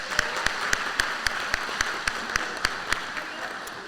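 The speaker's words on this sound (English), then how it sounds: "so let's give them a round of applause" Audience applause at a high school senior awards ceremony, sounding like a single close pair of hands clapping at a steady rhythm, about a dozen sharp claps over a low background murmur.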